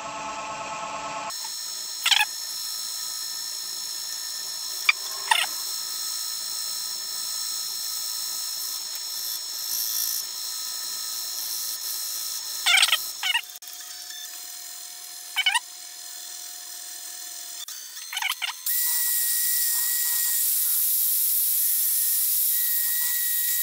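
A wood lathe spins a lidded box at about 550 RPM, giving a steady mechanical whine with tonal hum; occasional brief scraping and rubbing contacts cut in, and near the end a louder, broader hiss of sanding or tooling takes over.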